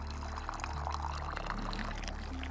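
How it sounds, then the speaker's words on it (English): Tea being poured in the video game Wanderstop, a steady liquid stream running continuously over a low musical background, with no speech. "Alright, let's pour some tea."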